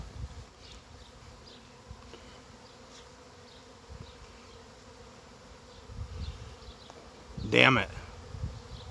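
Honeybee swarm buzzing outdoors as a steady low drone with individual bees zipping close past, and a person briefly speaking.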